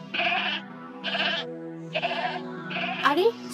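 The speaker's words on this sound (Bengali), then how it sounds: "ছাগলের ঘর থেকে কেমন কান্নার আওয়াজ আসছে" A goat bleats in its shed at night, four loud, wavering cries in a row with short pauses between them, close by and clear against a quiet background.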